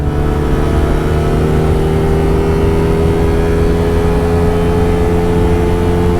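A Pulsar N160 4V motorcycle engine drones loud and steady at high speed in fifth gear, a constant even roar with no pauses or talk.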